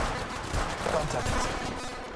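Gunfire in the video game Apex Legends, a dense, continuous burst of shots spread across the clip at moderate level, ending in a sharp final crack, with game voices faintly mixed in.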